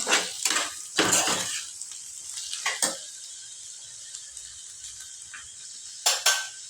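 Tomatoes frying with ginger garlic paste in a pan for restaurant-style paneer bhurji, with scattered utensil clinks and scraping stirs over a faint steady sizzle, no one talking.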